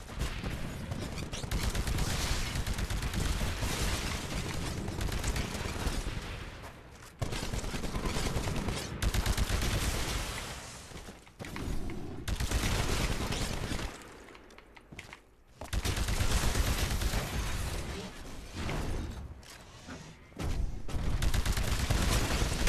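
Sustained heavy weapons fire from an anti-titan gun against a titan in Titanfall, dense rapid bursts and booms running almost continuously with brief pauses, loud and close.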